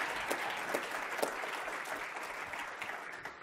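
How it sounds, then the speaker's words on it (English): An audience at a public sector event claps in a steady round of applause, a dense continuous patter of many hands heard up close with no speech over it. "a big round of applause to Brent."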